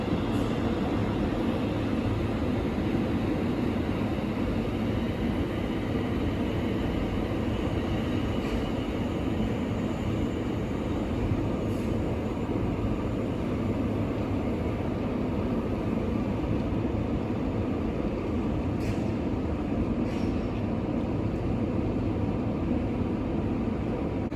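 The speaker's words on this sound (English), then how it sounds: "Now departing is the 1345 London North Western Railway service from Birmingham New Street to London Euston" A London Northwestern Railway train pulls out of Birmingham New Street, a steady loud rumble of rolling stock and low engine drone filling the station without pause, with faint higher squeals and clanks over it.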